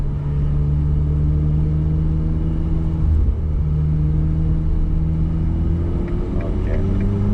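A Ferrari F8 Spider's engine and exhaust rumble steadily while driving, a loud, continuous low drone with a downshift blip and rising revs near the end, heard alone.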